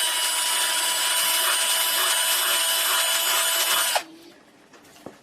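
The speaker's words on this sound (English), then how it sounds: "we're going to drill a 3mm hole just to get rid of all the stuff around the edges and inside the hole" A drill bores a 3mm hole through a Danelectro baritone guitar body, giving a loud, steady high-pitched whir that stops abruptly after about four seconds, leaving a quiet room.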